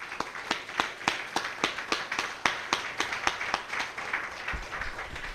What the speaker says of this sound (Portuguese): Vamos dar uma salva de palmas para o nosso Deus?